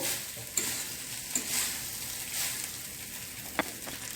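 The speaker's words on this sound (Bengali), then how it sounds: "বাড়িতে এরকম ভাত বেঁচে গেলে রেখে দিয়ে এইভাবে ভেজে নিলে খুব সুন্দর খেতে লাগে।" Leftover rice fries in a pan for fried rice, giving a faint steady sizzle with occasional light scrapes and taps from stirring.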